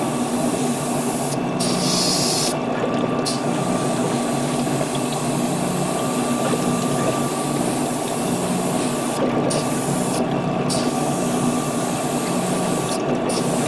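An airbrush or spray can paints a part of a 1/144 HG GunCannon Gundam model kit in gray, a steady loud hiss with a motor drone running throughout, broken by a few brief pauses.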